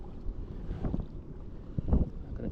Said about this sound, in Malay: Angin dah masuk guys